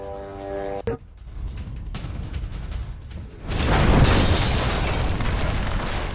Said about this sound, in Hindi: रूस के गोला बारूद डिपो में हुआ है ये ब्लास्ट।